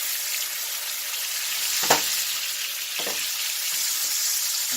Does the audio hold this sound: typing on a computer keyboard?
no